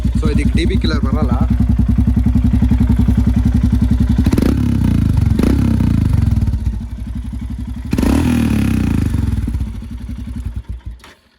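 A modified, stage 2 tuned Royal Enfield Himalayan 411 with a loud exhaust runs up close, with a thumping idle, sharp blips of the throttle and heavy rumbling revs before it dies away.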